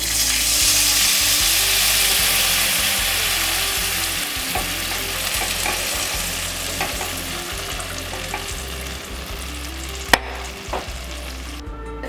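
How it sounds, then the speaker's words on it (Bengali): Tamarind water poured into a pan of frying puti fish for a sour curry, giving a loud, steady sizzle with stirring scrapes throughout and a couple of sharp clinks near the end. "এবারে তেঁতুলের জলটা দিয়ে দেব।"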